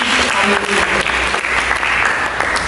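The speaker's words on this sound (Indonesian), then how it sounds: "Berikan tepuk tangan bagi Yesus Kristus." Congregation applauding in a church service, a loud, steady wash of many hands clapping that fills the clip, with a brief voice heard near the start.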